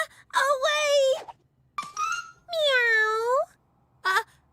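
A cartoon cat meows in several drawn-out, wavering cries, each separated by short silences, voiced clearly and up close, with the last one brief and clipped.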